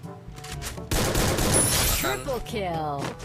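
Gunfire in the Free Fire battle royale game: a short quiet stretch, then a dense, loud burst of rapid shots running for about two seconds before it tapers off.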